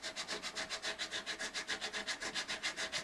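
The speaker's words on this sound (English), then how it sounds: "You can actually feel and hear the file when it starts to dig in." A 300-grit diamond file works the fret area of a Johnson JD27 acoustic guitar in quick, steady back-and-forth strokes, about six per second, close and moderately quiet, with no talking.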